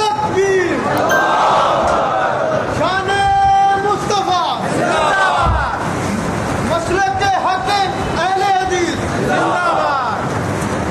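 Crowd chanting slogans at a religious sermon gathering: loud, massed voices rising and falling in repeated waves, filling the whole stretch with sustained, echoing shouts.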